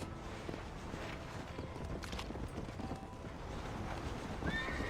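Horse hooves clip-clop steadily in Red Dead Redemption, with a horse's neigh mixed in, fairly quiet and continuous under game ambience.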